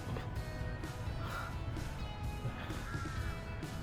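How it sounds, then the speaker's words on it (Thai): Crows caw from a tree crowded with birds beside a littered park in Bangkok, harsh calls rising over steady outdoor noise, with a couple of distinct caws standing out. "มี อีกา เพียบเลย"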